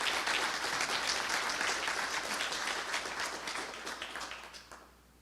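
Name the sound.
audience applause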